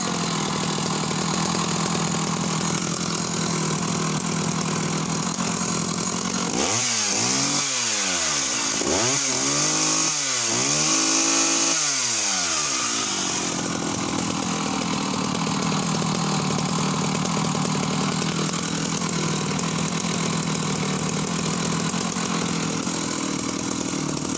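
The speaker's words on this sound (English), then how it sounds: "this is starting it with no throttle lock. This is just in the idle position." A vintage 1970s Husqvarna 180S professional Swedish chainsaw idles with no throttle lock, a steady close engine drone broken midway by several rising and falling revving swells before settling back to a low idle.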